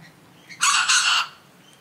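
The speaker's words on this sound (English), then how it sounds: "all we're going to see is magpies at the moment" A magpie at Loch Sport gives a single harsh, bright call lasting about half a second, close and loud against a quiet background.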